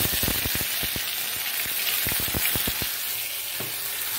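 Two bay leaves and two dried chillies fry in hot oil, giving a loud, continuous sizzle broken by sharp, rapid crackles and pops, close up, with no voices.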